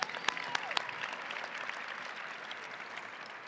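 Applause from a high school graduation audience, with a few sharp claps up front before the sound thins into a lighter, scattered patter that fades over a few seconds.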